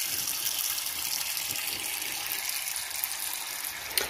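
Water splashes and gushes steadily while a silicone baby doll with rooted hair is washed in a bubble-filled tub, a continuous close wash of sound ending in a brief louder slosh.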